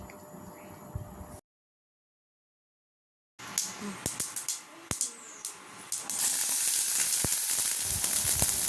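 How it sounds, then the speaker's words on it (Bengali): Dried chilli and mustard seeds sizzle in mustard oil, starting with scattered sharp pops and crackles that build into a steady hiss after a brief silence. "তাতে আমি সর্ষের তেল দিয়ে নিয়েছি ফোড়নে দিয়েছি শুকনো লঙ্কা একটু সর্ষে"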